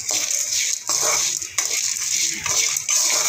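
Dry shrimp idli powder mix being stirred in a pan, with repeated rhythmic scraping and rustling strokes close up and no talking.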